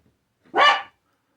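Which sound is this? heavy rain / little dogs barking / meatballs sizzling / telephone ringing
little dogs barking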